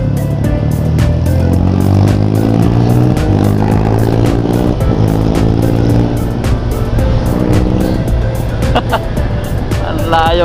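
Large motorcycle engine revving hard as the throttle is twisted, a loud, steady roar with rising and falling harmonic sweeps that runs throughout, with voices talking over it.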